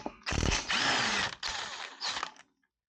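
A power tool with a socket works on wheel lug nuts, giving loud, close whirring bursts with ratcheting chatter in three main runs before it stops and leaves silence.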